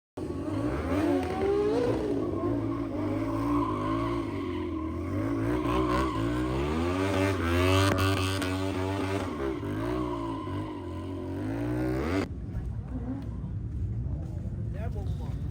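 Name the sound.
stunt riders' motorcycles at a motorcycle show competition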